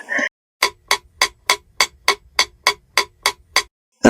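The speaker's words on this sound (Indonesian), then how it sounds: "hanya bunyi detak jam dinding dan mesin oksigen yang terdengar." Wall clock ticking in a quiet hospital corridor, a dozen crisp, evenly spaced ticks about three per second, close and loud, with a faint low hum underneath.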